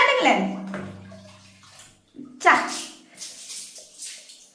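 A child being bathed with warm water: water is poured and splashed in several separate gushes with gurgling and sloshing between them, close by, while voices talk over the washing.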